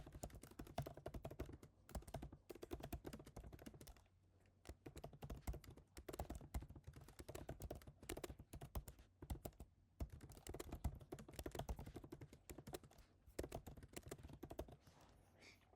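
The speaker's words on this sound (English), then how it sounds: "then I will go ahead and type in the title" Fast typing on a computer keyboard, heard up close as a dense, steady clatter of keystrokes with one short pause partway through.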